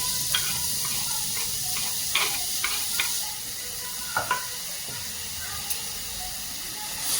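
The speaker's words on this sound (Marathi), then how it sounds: "आणि तुपामध्ये थोडासा पालक आपण फ्राय करून घेऊया" Chopped spinach frying in ghee over a low flame with a pinch of asafoetida, a steady close sizzle broken by several sharp scraping stirs of a spoon in the pan.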